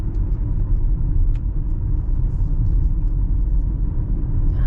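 Steady low rumble inside a 2022 MG ZST 1.5L with a CVT transmission while driving, with a faint whine over the road noise, continuous and unbroken, with no one speaking.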